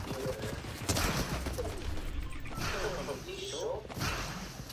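Gunfire in a video game cracks out in several quick bursts, fairly faint and spread through the clip, mixed with voices talking over it.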